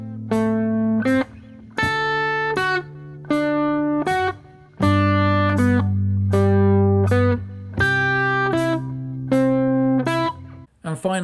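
Guitar plucking pentatonic-shape notes in a high, mid, low, mid sequence, clean sustained single notes repeating in a steady rhythm over several rounds, close and unaccompanied.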